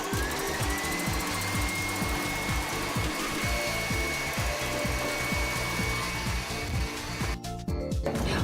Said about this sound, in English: I first loosen up the eggs by whipping them on their own, and then I'm going to add the caster sugar.